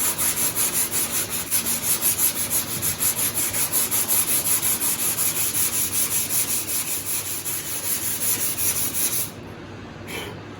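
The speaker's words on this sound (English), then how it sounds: "we're going to sand it and it will expose where the low section is" A sanding block is rubbed by hand over filler on a car body panel in quick, regular back-and-forth strokes, making a close, gritty scraping that stops near the end.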